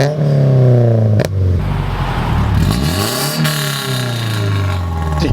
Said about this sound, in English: Okay, give me a couple of revs.